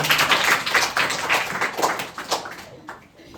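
Students in a class 7 science revision lesson clapping loudly, a quick series of sharp, uneven claps close by that fades out after about three seconds.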